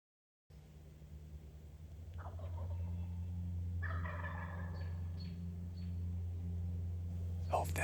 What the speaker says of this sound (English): have birds gobbling immediately